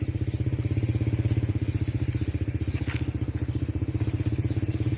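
A motorcycle engine runs in a village, a close, steady rapid putter with even pulses for the whole stretch and a faint crackle partway through.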